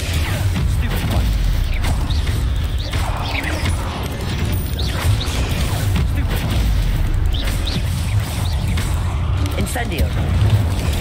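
Incendio fire spell bursts in Hogwarts Legacy, with booming whooshes and crashes of fire magic amid busy combat effects, loud and continuous, layered under someone talking over the game.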